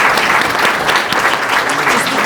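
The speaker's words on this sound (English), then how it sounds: "let's give our panel a big round of applause" A meeting audience applauds a panel at a sustainability organization's annual members meeting, with dense, steady clapping that stays loud and even throughout, no voices over it.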